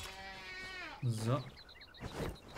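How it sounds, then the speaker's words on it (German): A goat in the video game Enshrouded lets out a wavering, drawn-out bleat, followed by someone speaking over quieter game sounds. "da sehe ich eine Ziege."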